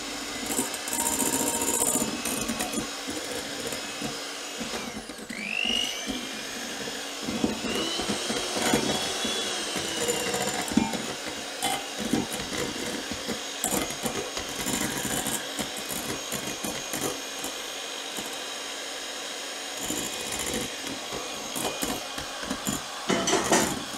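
An electric mixer beats meringue as sugar goes in, a loud, steady whirring drone throughout with scraping and rattling against the bowl and shifts in pitch.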